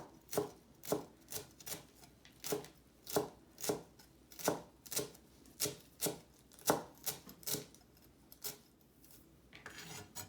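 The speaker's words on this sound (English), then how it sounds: "just chop some cilantro" Knife chopping fresh cilantro on a cutting board: about twenty crisp, evenly spaced thuds, close and steady, with no one talking.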